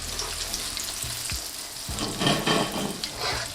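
Halloumi fries sizzling and bubbling in hot oil, a close, steady crackling fry with a few stirring knocks, no voices.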